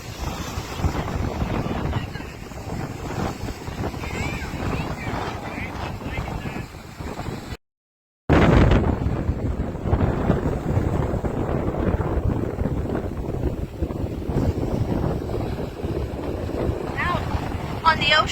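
Strong wind at Cocoa Beach Pier in Florida roars and buffets the microphone continuously, loud and rumbling with a brief dropout midway, while ocean surf washes underneath.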